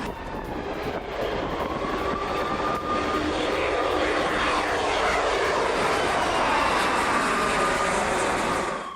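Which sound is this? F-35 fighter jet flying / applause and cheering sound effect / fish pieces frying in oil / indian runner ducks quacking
F-35 fighter jet flying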